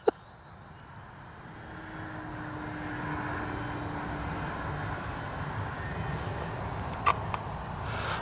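A Durafly Tundra RC model plane's engine drones steadily overhead at moderate distance, slowly building in volume, with a faint sharp click at the start.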